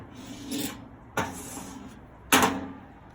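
Old tar being scraped out of a toaster oven with a screwdriver: three short rasping scrapes, close and fairly quiet, spaced about a second apart with a sharper final stroke.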